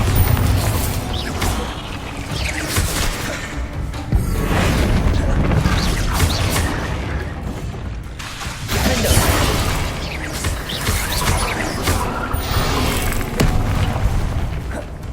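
A spell explosion in the Hogwarts Legacy video game, a deep booming blast against a steady rumbling, crashing game background, with a second heavy boom partway through and a voice briefly heard.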